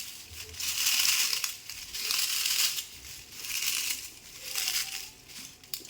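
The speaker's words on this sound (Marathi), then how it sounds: "त्यानंतर बघा या पापडचा चुरा करून घ्यायचा आपल्याला" Papad is crushed by hand for a chivda snack, giving repeated dry crackling, crunching bursts in a steady rhythm, close and fairly loud with no talk.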